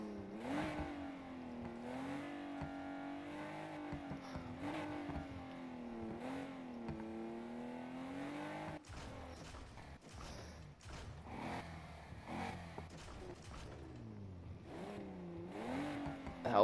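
Engine of a video game car fitted with forged induction, held at a steady drone that wavers slightly, then drops off, surges again and revs back up toward the end, with no voices.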